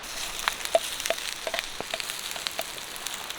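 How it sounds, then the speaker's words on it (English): Pigs in blankets sizzle and crackle in a pan over a campfire at a snowy mountain wild camp in the Brecon Beacons, Wales, a steady close frying hiss dotted with sharp pops. "I'm going to cook pigs in blankets now"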